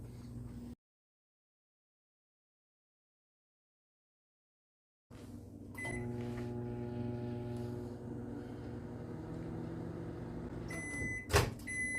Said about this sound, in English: we're going to put this in the microwave for 5 seconds